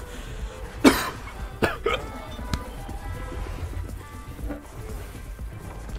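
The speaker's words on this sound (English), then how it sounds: "How did I cough and hiccup at the same time?" A single person coughs and hiccups at once, giving a sharp burst followed by a couple of smaller clipped catches over a quiet background, with a few soft breathy noises after.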